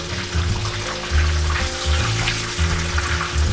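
A chicken cutlet fries in a pan with a steady, loud sizzle and crackle, close up, over a low background hum and with no voices.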